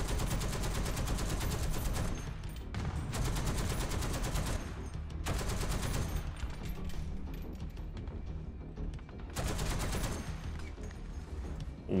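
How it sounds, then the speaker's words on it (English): A .50 cal machine gun in War Thunder firing in long sustained bursts with short pauses between them, loud rattling fire in the game. "That 50 cal and the machine gun."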